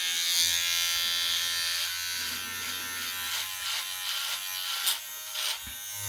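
Andis Slimline Ion cordless shaver motor buzzing close up while shaving, a steady electric hum whose pitch shifts and dips slightly as it bogs down against the hair, no talking.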